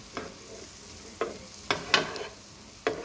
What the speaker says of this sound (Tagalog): So, ibabrown natin ng konti yung ating butter.